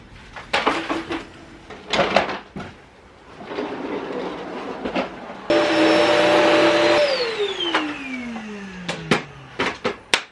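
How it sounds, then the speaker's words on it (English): Vacuum cleaner running over carpet indoors, a loud sustained whooshing roar with bumps and knocks, surging to a steady high whine and then winding down with a falling pitch at the end. "I vacuumed the dents out."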